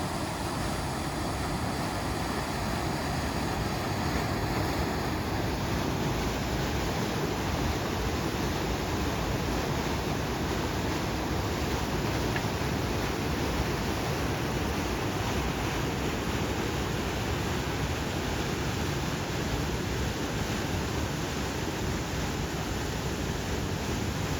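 Dense, steady roar of rushing water from a couple of separate waterfalls near Carcross, Yukon, loud and continuous throughout with no pauses, as if standing close to falling water.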